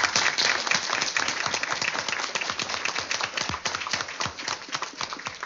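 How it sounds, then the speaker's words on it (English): Audience applause for panelists and a moderator at a workshop, a full burst of many hands clapping that starts loud and gradually thins and softens over several seconds. "please give another round of applause"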